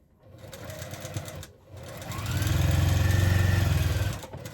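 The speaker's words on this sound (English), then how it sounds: "When I go back to sew, I start where I left off and then I back up a little bit to secure that stitch." A sewing machine stitching quilt sashing runs in two close bursts: a short run, a brief pause, then a longer, louder steady whir of rapid needle strokes before stopping, with no voices.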